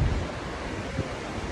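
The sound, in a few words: ocean waves at Daytona beach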